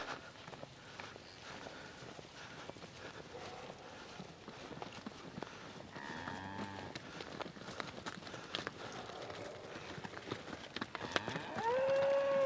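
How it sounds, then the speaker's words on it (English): Cattle low and bellowing faintly amid a noisy outdoor herding scene, with shuffling hooves and movement throughout and a brief high tone near the end; no one speaks. "Woo, cow!"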